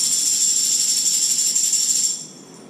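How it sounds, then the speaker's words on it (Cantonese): A hand bell rings in a bright, high, sustained shimmer for about two seconds, then cuts off sharply to quiet, close and fairly loud with no talk. "有聽到 Hazel姐姐呢一個手搖鈴"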